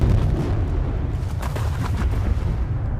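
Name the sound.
explosion blasting a large boulder in film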